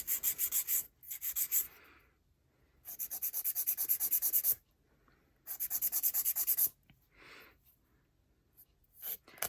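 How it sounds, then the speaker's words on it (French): A nail file held straight is rasped across a fingernail in quick, rhythmic back-and-forth bursts, close and fairly loud, with a few short pauses between strokes. "Je pose ma lime bien droite comme ça."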